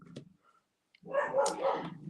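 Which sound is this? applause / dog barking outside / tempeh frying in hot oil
dog barking outside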